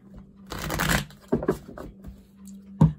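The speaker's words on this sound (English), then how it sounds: "Last shuffle." Tarot cards riffled in a quick card shuffle, a dense papery flutter over about half a second, followed by a few soft taps and card slaps, close and fairly quiet.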